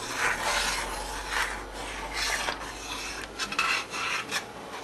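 A spoon scrapes and rasps steadily against the bottom of a pot of tuna fish stew, a continuous close rubbing stir with uneven strokes.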